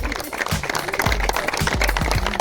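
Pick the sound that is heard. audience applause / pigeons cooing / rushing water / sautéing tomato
audience applause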